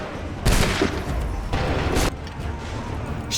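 Volley of musket gunfire in Assassin's Creed III, loud booming blasts around half a second and again near two seconds, each followed by a rumbling, crackling tail over lingering battlefield noise.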